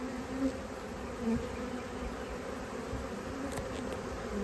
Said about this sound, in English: Lots of bees. Good swarm.